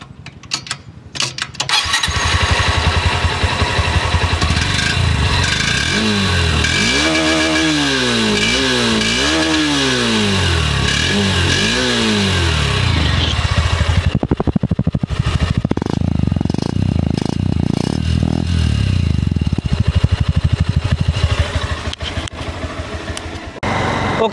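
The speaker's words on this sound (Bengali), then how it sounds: "আর এখন ইঞ্জিন স্টার্ট করে" A motorcycle engine is recorded right at the silencer as it cranks with a whirring starter and catches. It revs in several rising and falling bursts, then settles into a loud, close, rough idle with clattering exhaust pulses.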